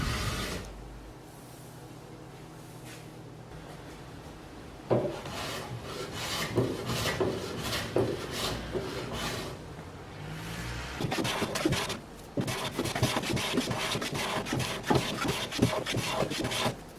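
A hand tool rasps and scrapes along the front edges of a glued wooden carcass for a change table. The rubbing is close and continuous, with strokes growing busier and more rhythmic toward the end.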